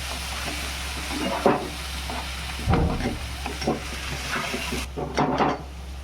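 Ground masala paste for kantoli cooks in a hot pan, a steady close sizzle with a low hum underneath, broken by a few louder stirring scrapes and bursts of spattering, with no talking.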